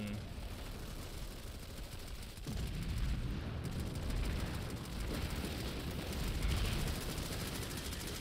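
Continuous rapid automatic gunfire from a Planetside 2 firefight, dense and loud throughout with sustained bursts and no pauses, intensifying slightly after the first couple of seconds.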